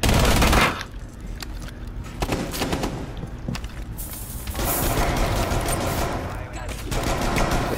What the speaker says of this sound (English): That's Harambe shooting.